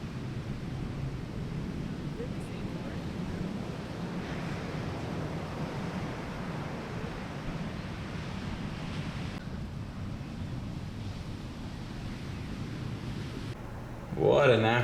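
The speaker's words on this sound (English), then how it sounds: "So me and Ivan ended up going out in the wind" Ocean surf and gusting wind at Puerto Escondido, where big waves run with strong rip currents, form a steady, dense wash of noise that holds level throughout, with a brief louder burst near the end.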